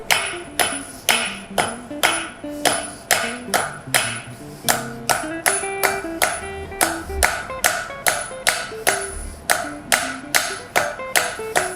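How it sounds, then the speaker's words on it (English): Hammer forging hot steel down into a point on an anvil, a steady run of sharp, ringing metallic strikes with bright overtones, evenly paced and close by with no talking. "I'm just forging down a little point, stretching the steel out."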